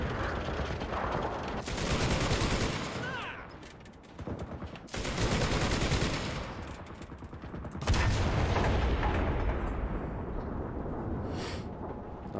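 An IS-2 tank's 122mm cannon fires an HE shell during a Berlin battle in Enlisted, heard as heavy booming blasts and a deep low rumble amid continuous surrounding gunfire.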